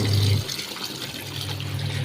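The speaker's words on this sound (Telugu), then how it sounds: "ఈ మూడోసారి వాటర్ పడితే అయిపోయింది లాస్ట్ రౌండ్ ఇది వాటర్ పట్టడం ఇంకా అయిపోయింది" Water pouring into a washing machine drum during its final rinse, a steady rushing flow after a brief louder hum at the start, close and continuous, with no talking.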